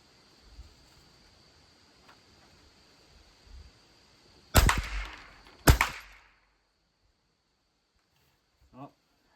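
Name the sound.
Savage 64F rifle gunshots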